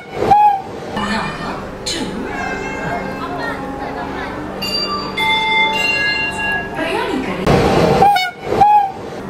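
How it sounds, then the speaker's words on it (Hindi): Train 12193, the Yesvantpur–Jabalpur express, departs platform 2 at Yesvantpur station with loud rolling rumble, wheel and rail noise and a bell-like ring, horn-like tones near the start and end, while people talk over it. "बिल्कुल ऑन टाइम अपनी जो ट्रेन है वो यशवंतपुर के प्लेटफॉर्म नंबर 2 से छूट चुकी है"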